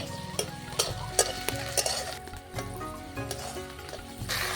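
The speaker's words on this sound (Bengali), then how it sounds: "ও ভালো করে মশলাটা কষাবো" A spice paste with tomato is stir-fried for a fish curry, the mix sizzling in a pan while a utensil scrapes and knocks against it in irregular strokes, close and moderately loud, no talking.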